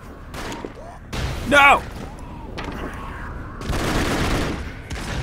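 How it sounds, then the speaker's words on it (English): Explosions and gunfire from the side-scrolling action game Broforce, with bursts and booms rolling loudly throughout, mixed with a player's excited shouting over the game sounds. "Why are those explosions so big?"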